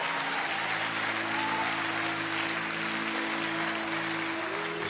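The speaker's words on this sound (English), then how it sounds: "Clap anyhow, right where you're sitting." A congregation at a sermon claps steadily from their seats, a continuous dense applause with a faint low hum beneath and no talking.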